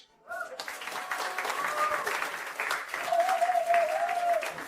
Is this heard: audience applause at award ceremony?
yes